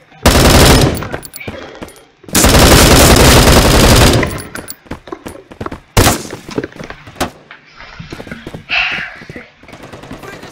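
Rapid automatic gunfire rattles loudly in the shooter game Bullet Force, two long sustained bursts followed by scattered shots and impacts, close and dominant.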